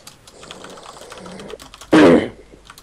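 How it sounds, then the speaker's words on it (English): Computer keyboard typing during a tabletop fantasy role-playing session, with faint scattered key clicks followed by a short, loud burst of rapid keystrokes close to the microphone. "I am typing out what happens to him right"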